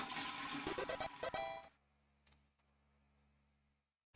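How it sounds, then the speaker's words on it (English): Toilet flushing in the video game Deltarune, a loud rushing flush lasting about a second and a half that cuts off abruptly, leaving a quiet electronic hum with a faint click. "I think I need to flush the toilet."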